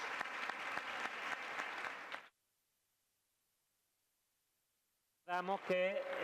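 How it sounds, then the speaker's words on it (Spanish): A crowd claps enthusiastically for about two seconds at a book presentation, then silence falls before a voice begins speaking. "creo que se ha merecido de sobra un fuerte aplauso"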